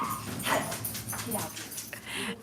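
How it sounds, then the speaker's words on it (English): Dogs bark and whimper indoors during a live nail-extension session, yips and whines mixed in with ongoing talk from people in the room. "stop making so much noise, dogs"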